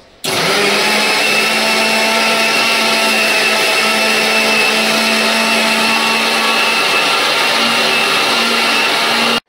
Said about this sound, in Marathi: हे बघा मिक्सरमध्ये आपण अशी पेस्ट फाईन केलेली सगळ्यांची